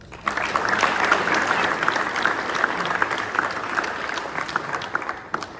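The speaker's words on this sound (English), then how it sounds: "So could you please give them a round of applause." A hall audience at a high school hall of fame induction claps for the inductee's parents, a dense, sustained round of applause that rises quickly, holds steady for several seconds and then fades out at the end.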